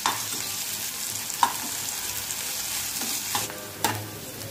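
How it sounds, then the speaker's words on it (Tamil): Adamant creeper stems sautéing in hot oil, a bright continuous sizzle broken by several spatula scrapes and taps against the pan, close and fairly loud, no speech. "முன்னாடியே எண்ணெயில் போட்டு பிரண்டையை நல்லா வதக்கிக்கிறோம்"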